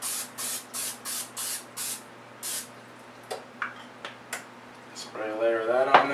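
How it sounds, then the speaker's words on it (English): Several short hissing bursts from an aerosol can of non-stick cooking spray in a quick rhythm, followed by a few clicks and then a voice speaking close by. "Spray a layer of that on there"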